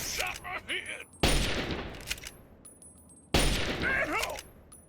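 Rifle fire in Fallout's Point Lookout, two sharp loud shots spaced a couple of seconds apart, each trailing a reverberant tail, with a voice talking briefly in between.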